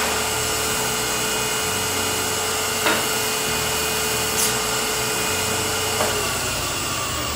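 A power sander whirs steadily against a wooden Christmas ornament, a continuous buzzing hum with a few brief scraping bumps.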